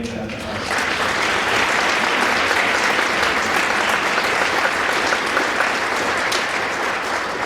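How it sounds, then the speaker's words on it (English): A concert audience in a Montrose venue claps in sustained applause, dense and steady, filling the room for several seconds after a brief quiet start. "I'd like to have a big round of applause for the City of Montrose and this wonderful facility that we get to use."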